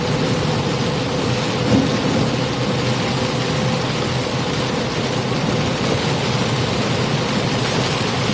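Steady heavy rain pours throughout a severe Oklahoma thunderstorm, with a low rumble of thunder beneath it and a slight swell near two seconds; no voices.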